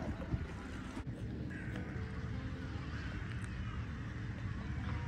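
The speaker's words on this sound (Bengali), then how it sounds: "ক্রো চলে আসছে" Crows caw a few times beside a lake in Switzerland, sounding moderately distant over a constant outdoor background of wind and lapping water.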